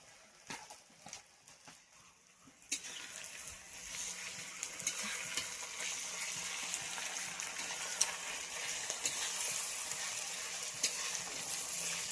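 Onions frying with salt in a pan: a quiet start, then a steady, bright sizzle that swells and holds, with faint stirring clicks over it, close by.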